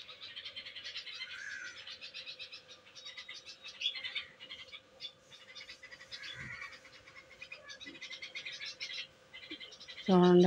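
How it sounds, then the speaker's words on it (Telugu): Birds chirp and twitter outdoors in quick repeated bursts over a steady faint tonal hum. The chirping stays fairly close and continuous, and a sudden loud thump ends the clip. "చూడండి పక్షులు కిచి కిచి కిచి కిచి కిచి పడుతున్నాయి."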